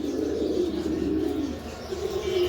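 Cream bar pigeons coo close by in soft, low, rolling phrases, with faint chirps in the background.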